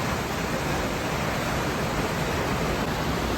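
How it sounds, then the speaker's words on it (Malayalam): Water streaming below a dam through a fish passage channel, a dense even roar that stays close and constant, with no voices. "ഇതിലെ ഇതുപോലെ വെള്ളം ഒഴുകുന്നുണ്ട്."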